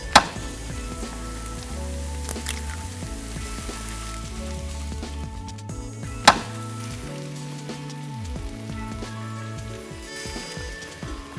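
Eggs cracked into wells in a pan of corned beef hash and potatoes fry with a steady, close sizzle and crackle that runs throughout, with a couple of sharp clinks and the hiss easing slightly toward the middle.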